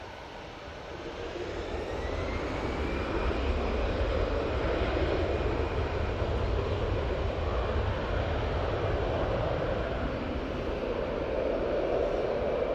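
An EasyJet airliner on its takeoff roll at Manchester Airport, engine roar swelling over the first seconds and then holding a loud, steady rumble with a faint rising whine, heard from a distance with no talk.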